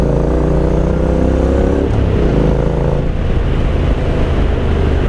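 A Honda NC750X road motorcycle on Shinko tyres rides along a gravel dirt road, its engine droning loud and close with steady low rumble and some wind, engine pitch shifting slightly midway.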